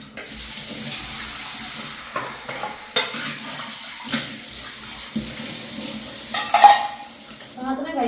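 Dishes and glasses being washed under a running tap, a steady broadband water rush with occasional clinks and splashes of utensils throughout, close and fairly loud, no talk.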